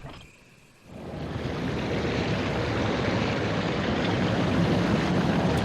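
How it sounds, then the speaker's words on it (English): A waterfall in the Resident Evil HD Remaster video game gives a steady, dense rushing roar that swells in after a quiet second and then holds loud and even to the end. "The sound of a waterfall has stopped."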